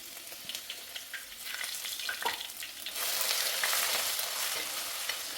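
Garlic and ginger sizzling in hot oil for a crab roast, a soft crackling fry with occasional stirring clinks that grows louder and denser partway through.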